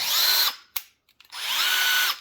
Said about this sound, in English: It's a brushless drill.